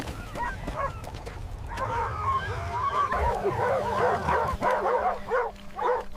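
African wild dogs calling in protest as a hyena drags away their stolen carcass, a busy chorus of high twittering, honking yelps, close and continuous.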